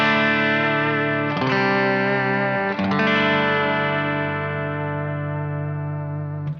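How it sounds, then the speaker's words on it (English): A PRS DGT electric guitar played through its bridge pickup with the coil tap engaged, several sustained chords strummed loud and bright with a chorus-like shimmer, each ringing on and slowly fading, no talking. "And that's where we get that sort of telly bridge pickup sound."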